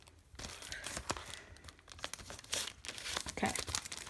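A Champions League 2015/16 sticker multipack wrapper is crinkled and torn open, giving continuous close plastic rustling with sharper ripping bursts throughout and no talking.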